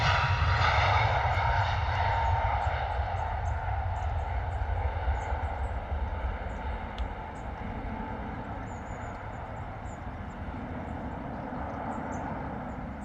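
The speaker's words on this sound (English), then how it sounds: "Here we go, Malta Air 737 out the door." Malta Air Boeing 737 at London Stansted rolling out on its takeoff run, a loud, sustained jet engine roar with a whining harmonic layer that holds steady, then eases slightly as it pulls away.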